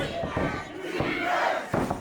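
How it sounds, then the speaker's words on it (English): A wrestling crowd at a WFA Reborn tournament match shouts and chants in a sustained roar, with rising bursts of yelling at close to medium distance. "Now Benny and the crowd calling for some defense from Marbury."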